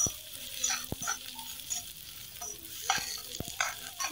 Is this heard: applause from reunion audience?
no